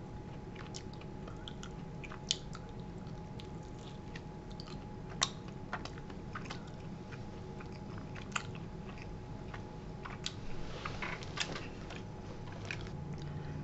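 Rooster wings are chewed close to the mic, a run of soft, moist biting and crunching sounds repeating steadily, with no talk over them.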